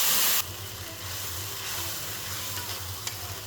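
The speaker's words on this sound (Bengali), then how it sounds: "এখন নাড়াচাড়া হবে।" Chicken pieces coated in spices sizzle in a pan as they are stirred for biryani, a steady close frying hiss with soft scraping stir sounds and a few small pops, preceded by a brief louder burst at the start.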